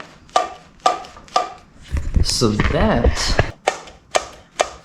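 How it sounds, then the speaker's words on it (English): The carburetor slide of a 1974 Yamaha Enduro dirt bike snaps up and down, its sharp clacks echoing out of the air box in a steady series, with a voice speaking briefly in the middle. "that is the sound of the slide moving up and down and echoing out of the air box here"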